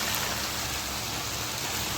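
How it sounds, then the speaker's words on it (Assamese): Dhekiya fern with potato frying in a pan, giving a steady, dense sizzling hiss that stays even and close throughout with no talk. "আৰু এইপিনে মই ঢেকীয়া ভাজি আছোঁ"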